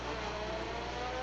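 Portsmouth Army Navy Enduro race cars at Langley Speedway, a dense, continuous engine drone at full throttle from a distance, steady and unbroken over a moment.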